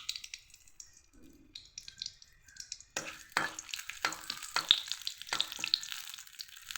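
Bay leaf and dry red chilli dropped into hot oil in a heated kadai, quiet at first, then a sudden louder crackling sizzle with sharp pops and stirring scrapes, close by, no talking.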